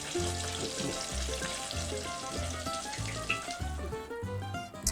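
Whole smelt sizzle and bubble in hot oil, a close, steady frying crackle with a low rhythmic tone running beneath it.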